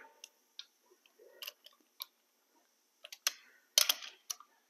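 Small oil pan bolts on a Miata engine are tightened with a hand ratchet, giving sparse, quiet clicks and short metallic ticks with pauses between them. A quick burst of ratcheting comes near the end, all close-up with no talk.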